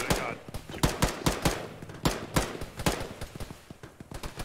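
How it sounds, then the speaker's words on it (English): Bursts of automatic gunfire come from a bunker up a hill in an Arma video game, sharp rapid shots with distant reports, some louder and closer, in an irregular ongoing exchange. "bunker up the hill west is the one shooting at us"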